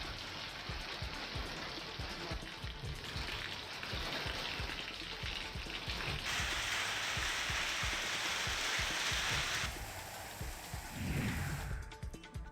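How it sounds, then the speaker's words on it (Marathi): Heavy hail and rain pound down steadily, a dense, loud patter with sharp low impacts that continues without pause. "धाराशिवच्या उमरगा परिसरात गारांचा पाऊस पडलाय"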